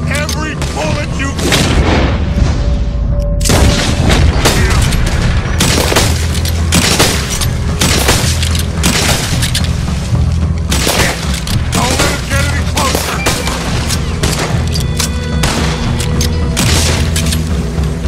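Gunfire in the Red Dead Redemption video game cracks and booms in dense, rapid volleys alongside loud blasts, close and forceful throughout, with people talking in places.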